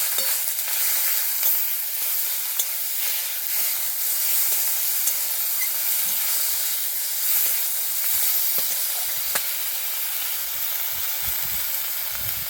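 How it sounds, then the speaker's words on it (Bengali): Ginger, chili and onion paste with bay leaf being stirred in a hot pan, a continuous bright sizzle with faint scraping ticks from the stirring, steady and close, no voices. "আদা বাটা, লঙ্কা বাটা, পেঁয়াজ বাটা, ভালো করে মিক্স করে নেব।"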